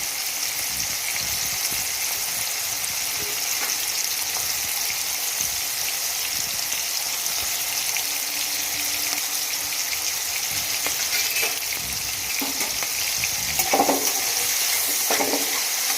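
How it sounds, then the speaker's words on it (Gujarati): Chopped tomatoes sauté in a pan over a high gas flame for green onion curry, giving a constant loud sizzle with occasional scraping stirs and faint clinks of a spoon against the pan. "આ રીતના ટામેટા જ્યાં સુધી ઓગળે ના ત્યાં સુધી એને સાંતળી લેવાના છે"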